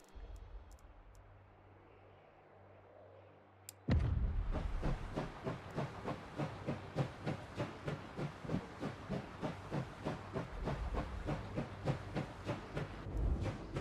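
A steam train in Last Train Home starts up with a hiss, then settles into a long run of regular rhythmic clacks and chuffs that keep an even pace, fairly loud and continuous.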